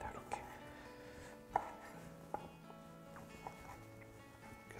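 A knife chops orange flesh on a cutting board, producing a few sparse, sharp taps spaced irregularly, quiet and close against a faint background hum.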